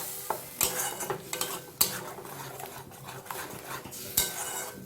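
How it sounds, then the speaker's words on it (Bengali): A paste of dried and green chillies, tomato and melon seeds stirred in a pan, with several sharp spoon-on-metal scrapes and clinks over a low sizzle, alone and fairly close. "এটাকে এইভাবে একটু নেড়ে নেব।"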